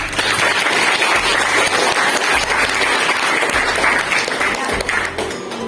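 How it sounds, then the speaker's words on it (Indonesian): A classroom of students claps for a classmate's answer during an Islamic studies lesson, steady close applause throughout with a teacher's voice underneath. "Kita beri aplaus untuk Ajana."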